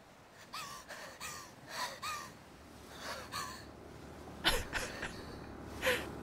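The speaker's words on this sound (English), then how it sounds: "Remember that gasping sound?" Gasping breaths from a character in the horror video game Seven Mansions: Ghastly Smile, a series of short sharp inhalations and wheezy exhales coming in uneven bursts, close and fairly clear over a quiet background.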